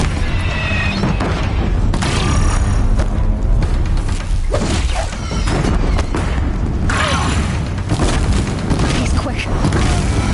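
Heavy machine fire and a bridge collapsing in Horizon Zero Dawn: loud, dense booms, thuds and whooshes that continue for the whole stretch, with a voice speaking briefly over the chaos.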